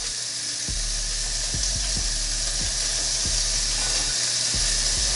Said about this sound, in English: Everything's grilling up really good.